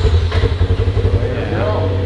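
A new Polaris RS1 side-by-side with stock exhaust runs steadily with a loud, low engine drone close by, voices talking over it.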